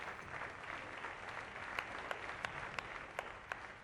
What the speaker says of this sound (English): the cheering crowd's clapping turns to silence